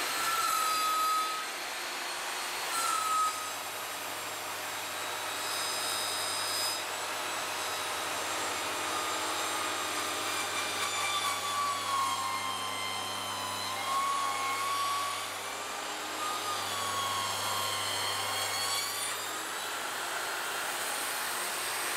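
An Evolution R255TBL+ table saw cuts through hard oak with a loud, continuous whine whose pitch sags and recovers under load for about twenty seconds.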